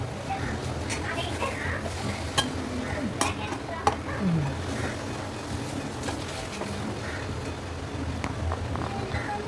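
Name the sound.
stirring melting jaggery mixture in a pan for modak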